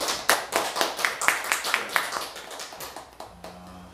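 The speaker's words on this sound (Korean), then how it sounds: "우리 하나님께 사랑의 박수 올려드립시다." A church congregation applauds, with dense, steady clapping that builds and then fades out, fairly close, and a voice briefly audible as it ends.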